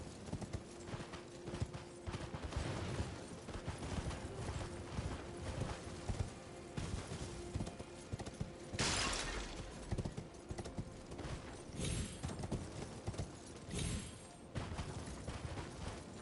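Hooves clip-clop steadily and rhythmically as a horse is ridden in the video game Elden Ring, with busy game sounds and occasional sharper bursts layered over the continuous galloping beat.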